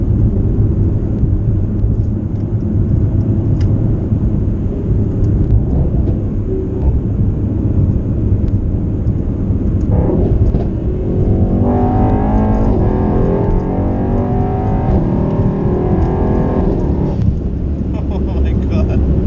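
Cabin sound of a tuned 2018 Mercedes-AMG E63 S pulling hard, a steady loud engine roar that rises into rapid gear-shifting harmonics midway, with people talking over it throughout.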